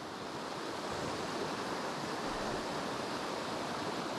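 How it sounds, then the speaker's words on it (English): Water rushes steadily where two small creeks join in the bush near Lake St Clair, a continuous broadband flow heard close by with no other sounds. "That waters meet where the 2 little creeks meet"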